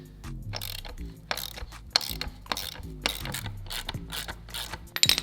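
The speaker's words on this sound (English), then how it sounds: "So get these two bolts off first" A hand ratchet working bolts loose from the rear differential of a rotary-engined Corvette, rapid close clicking in short bursts with pauses between pulls and occasional metallic knocks.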